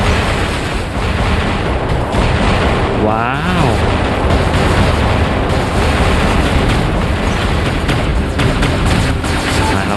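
Robot weapons fire in a War Robots 9.0 match, a dense, continuous barrage of booming shots and blasts, with a sweeping whine near the middle and voice talk running underneath.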